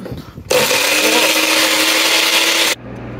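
A blender whirs loudly and steadily for about two seconds, blending satay ingredients with a little water, starting and stopping abruptly against a quieter room background.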